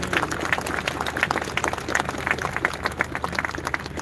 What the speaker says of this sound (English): glad you're clapping yourselves because you should be